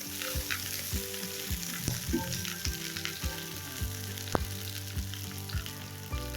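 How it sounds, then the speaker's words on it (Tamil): Okra sautéing in hot oil in a pan for an okra curry, a steady close sizzle broken by repeated clanks and scrapes of a spoon stirring. "இப்போ இந்த வெண்டைக்காவை இந்த எண்ணெயில் நம்ம நல்லா வதக்கணும்."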